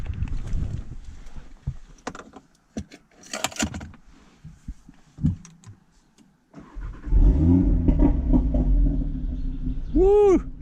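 Audi R8 with a 5-cylinder engine, keys jangling and cabin clicks, then a loud startup burst that settles into a strong, rumbling idle with a sharp rev flare near the end, close by.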